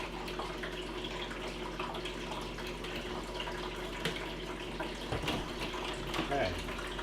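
Rinse water drains and splashes steadily out of a film developing tank, a continuous close trickle and gurgle with faint knocks near the end.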